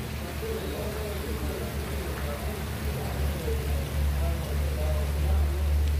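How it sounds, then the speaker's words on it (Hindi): Heavy rain pouring steadily outdoors, a continuous broadband hiss with a low rumbling undertone, constant and fairly loud throughout with no clear voices over it. "ये देखिए बारिश कितनी तेज़ बारिश हो रही है।"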